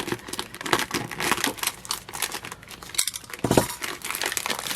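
A taped-up package of vintage craft supplies is pulled open, with loud, close crinkling, tearing and rustling in irregular bursts and a short pause partway through.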